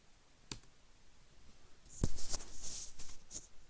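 Keys clicking on a computer keyboard as a command is typed, a single click early, then a denser run of quick clicks in the second half, close and fairly quiet with no voices.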